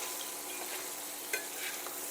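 Pork meatballs sear in a hot pan, a steady bright sizzle with a brief louder scrape and shuffle as they are turned, close and alone without talk.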